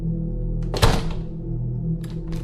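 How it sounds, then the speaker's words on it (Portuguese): A door slams shut once, a loud single thud over a steady low hum, followed by a couple of faint clicks later. "Do nada, uma porta bateu com força."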